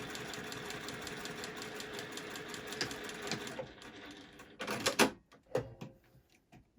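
Juki sewing machine stitching a fabric face mask seam in a workshop, a steady fast mechanical whir for several seconds that then slows and breaks into a few separate clunks and stops, heard close.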